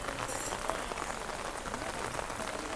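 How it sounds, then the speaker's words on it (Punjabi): Heavy rain pours steadily on surfaces nearby, a dense continuous hiss with no pauses and no voices. "ਮੀਂਹ ਨਹੀਂ ਹਟ ਰਿਹਾ ਮੀਂਹ ਪੈ ਰਿਹਾ ਪੂਰਾ"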